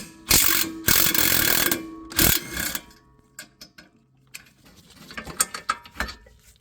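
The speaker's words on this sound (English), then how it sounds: "So either use a large 1/2" socket wrench, or if you can get a impact in there, that'll be helpful too." A 1/2-inch ratcheting socket wrench loosens the rear brake caliper mounting bracket bolts on an S197 Mustang, giving loud rapid clicking bursts, then softer, scattered ratchet clicks and taps close by.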